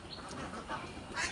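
Pekin ducks kept on a small rural farm under semi-intensive rearing quack a few times in quick succession, fairly close and moderately loud, in a short burst with no speech.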